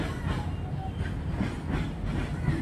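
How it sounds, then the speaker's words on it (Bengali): A freight train rumbles past nearby in a low, continuous roar with faint rhythmic clatter of wheels on rails, heard alone without talk. "আর এই দেখো ট্রেন যাচ্ছে"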